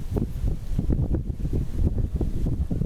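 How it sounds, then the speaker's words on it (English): Strong gusty wind buffets the microphone with a low, rumbling roar that surges and fades continuously, with no voices. "Wow, it's too windy."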